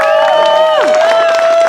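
A theatre audience at a Romeo and Juliet show cheers loudly, a close, dense crowd roar with whoops and a sustained high shout over scattered clapping.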